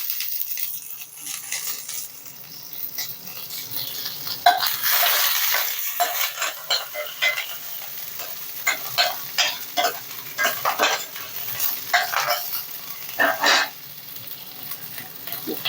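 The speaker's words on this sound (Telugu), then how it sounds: "ఇప్పుడు ఇది ఇలా వేగుతుంది కదా" Green chillies and curry leaves fry in a hot pan with a steady sizzling hiss, punctuated by scattered clinks and scrapes of stirring against the metal.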